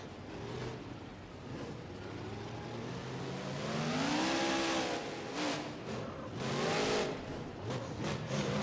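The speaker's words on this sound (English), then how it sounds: "But we like to thrash these trucks around." Monster truck from a BeamNG.drive mod being thrashed over jumps in the racing game, its engine revving loud and continuous with a rising-and-falling whine, swelling near the middle and again toward the end.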